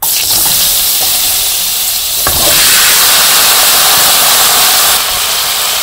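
Vegetables dropped into hot oil left from frying fish, with cumin already added, in a village kitchen; a loud, steady hiss that swells midway as they hit the pan.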